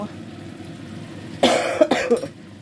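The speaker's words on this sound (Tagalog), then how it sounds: "grabe ang ubo ko" A couple of short, harsh coughs close to the microphone, following a stretch of quiet room noise.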